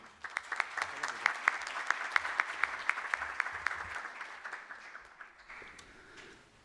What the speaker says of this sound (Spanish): recibamos con fuerte aplauso